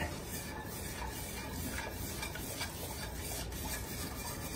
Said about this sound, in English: I'm gonna whisk that in to combine it